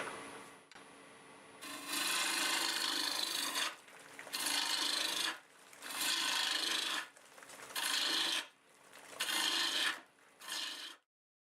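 A turning tool cuts into a piece of wood spinning on a lathe at about 1500 RPM, giving five or six loud, hissing rasp bursts separated by short gaps over a faint steady motor hum, then stopping.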